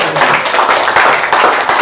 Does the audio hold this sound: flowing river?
no